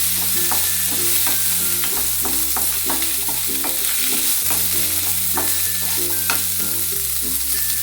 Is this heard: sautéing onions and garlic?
yes